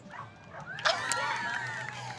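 Dogs yip and whimper excitedly at a dock dog jumping competition at a fair, a few short barks and whines rising over crowd murmur and background noise.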